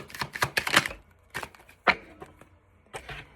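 Tarot cards shuffled by hand in a quick series of crisp papery riffles and taps, with a cluster of rapid snaps at first, then a few separate slaps and a last flurry, close and fairly loud with no talking.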